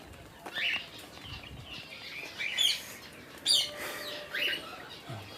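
Pet cockatiels in a rain-soaked cage give scattered short chirps and tweets over a quiet background, several separate calls spread across the moment, moderately close but soft.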